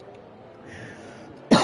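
A single sharp cough bursts out at the very end during a racing game livestream, close to the microphone after a quiet stretch of faint background hum.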